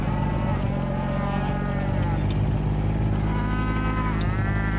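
Several cows in a snowy pasture moo loudly and continuously, upset by a harassing snowy egret, their overlapping low calls running together over a constant rumbling drone.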